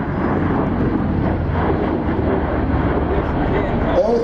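A V-22 Osprey tiltrotor flies past at an air force base airshow with paratroopers, producing a loud, steady broadband engine and rotor roar that holds throughout, with faint voices underneath.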